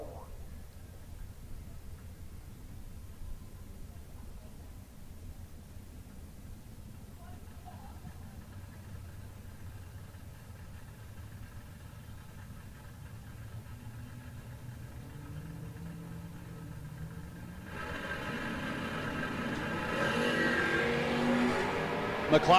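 A 5th gen Camaro and a Firebird at a drag strip, engines droning at a distance before the launch, then a rising roar as the cars pull away, with an announcer talking over the action.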